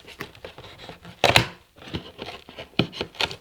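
Packaging material is cut and torn open while unboxing a designer handbag, giving close, irregular ripping and crinkling bursts with one louder tear in the middle.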